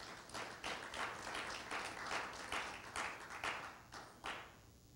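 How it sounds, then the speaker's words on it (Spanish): Church congregation applauding during an evening worship service, a steady wash of many hands clapping with rhythmic swells throughout, fairly faint and distant, with no talk over it. "Denle un aplauso a Cristo en esta noche."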